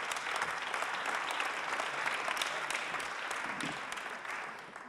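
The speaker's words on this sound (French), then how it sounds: "Et j'aimerais qu'on l'applaudisse pour l'accueillir." Audience applause at a French panel conference welcomes a speaker to the table, a steady, dense clapping that fills the whole stretch at close range and eases off slightly toward the end.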